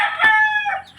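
A single rooster crow, close and loud, a brief harsh cry with a falling tail.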